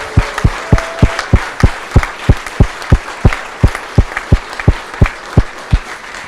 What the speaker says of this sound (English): please everyone join me in saying a huge thank you and make a huge round of applause to those who have made today possible